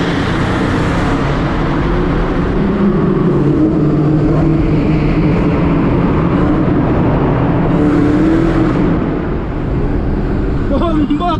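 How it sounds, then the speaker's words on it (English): Dodge SRT Hellcat, about 800 hp, driven in the rain: a loud, continuous engine and exhaust roar with road and tire noise throughout, swelling and easing slightly, with a brief rise near the end. "I'm gonna do some pops first."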